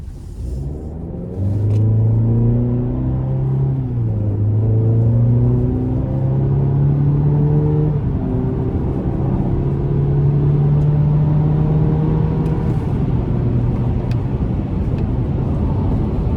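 A 2025 Chevy Colorado Trail Boss pickup with a 4-cylinder turbo engine accelerating hard from inside the cab, a loud steady engine drone climbing in pitch through the gears with brief dips at each shift.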